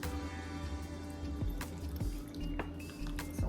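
Sea moss is swirled and rinsed by hand in a bowl of water, giving soft sloshing and dripping with a few sharper splashes and clinks against the bowl, close and quiet, no voices.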